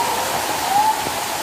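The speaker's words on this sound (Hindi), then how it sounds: "सीढ़ियों से पानी नीचे आ रहा है, बहुत ही खूबसूरत झरना है" Rainwater pours as a waterfall down the stone steps of a cave temple in Mohabbatabad village, Faridabad, during a heavy downpour, a steady loud broadband rush with no pauses.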